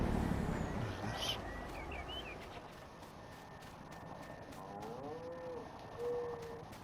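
Cows mooing on a livestock farm in Farming Simulator 19, a few low drawn-out moos at moderate distance over a continuous ambient farm bed with faint bird chirps and light ticking.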